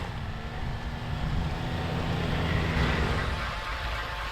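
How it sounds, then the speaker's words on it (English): Steady broadband wind buffeting a microphone outdoors on a frozen lake in winter, a continuous low rumble and hiss with no speech, swelling slightly partway through. "It's pretty windy out here."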